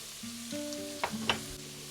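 Roughly chopped onions going into leftover ground beef grease in a pan for a casserole, a soft frying sizzle with a couple of short utensil knocks and a faint tonal hum underneath.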